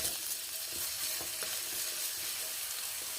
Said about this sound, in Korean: 마늘부터 제일 먼저 볶아 주겠습니다